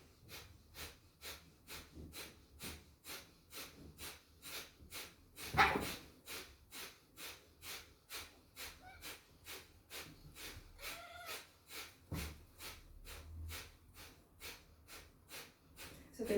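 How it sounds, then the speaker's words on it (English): Forceful Kapalabhati yoga breathing, a long steady series of sharp nasal exhales pumped in an even rapid rhythm, close and fairly loud, with a brief voice breaking in partway through. "We're going to exhale fully through the nostrils and begin Kapalabhati."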